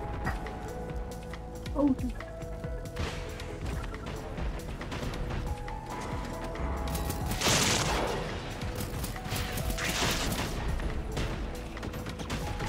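Bursts of gunfire in the video game Generation Zero crackle at a steady loudness over a busy backdrop of game noise, with rapid volleys around the middle and a few heavy impacts.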